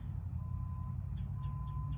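Faint, steady electronic vehicle reversing beeps repeat in the distance under a constant low rumble of background noise.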